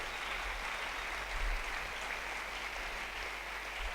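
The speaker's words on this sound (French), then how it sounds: "Acclamons-les très fort." Congregation at a church sermon applauding softly, a steady, distant wash of clapping with a slight swell midway and no speech over it.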